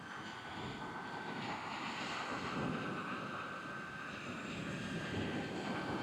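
The motors and propellers of a DJI Neo drone flying over water spin up into a steady, continuous whirring drone with a thin high whine, heard alone with no pauses.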